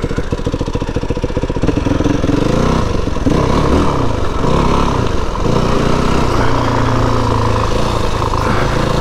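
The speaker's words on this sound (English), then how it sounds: "To be able to ride a motorbike up here" Motorbike riding up the U5051 Parkamoor hill road, its engine note loud and close throughout with steady throbbing and shifting revs as it climbs, no voices heard.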